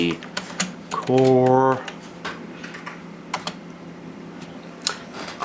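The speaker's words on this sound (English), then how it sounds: "now it's going to want my user information. I'll type in my name" Typing on a computer keyboard while entering user information when setting up an old Packard Bell machine, a run of close clicky keystrokes interrupted by a brief held tone, with someone speaking briefly.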